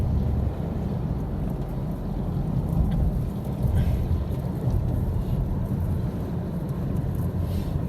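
Steady rain falls outdoors, a dense continuous hiss with low rumbling underneath, while someone talks at times over it.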